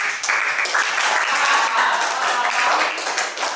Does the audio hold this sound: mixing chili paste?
no